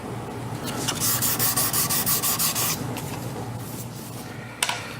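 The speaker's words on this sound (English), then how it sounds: "The sandpaper is at a fine enough grit now that it's not really going to change the geometry of the fingerboard or its radius." Fine-grit sandpaper rubs back and forth along a guitar fretboard in a rhythmic, hissing scrape, close and steady for several strokes, then quieter rubbing with a small knock near the end.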